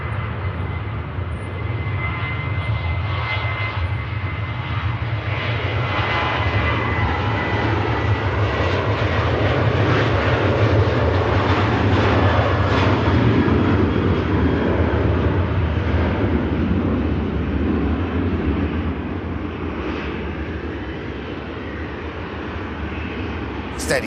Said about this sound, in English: this TUI gets off to the Canary Islands